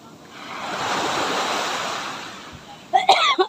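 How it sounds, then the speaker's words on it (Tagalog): A person coughs in a short cluster near the end, close and loud, after a long roar of strong surf breaking on a sandy resort beach in Sariaya, Quezon, with wind in the background. "Ayan, nauubo na naman ako."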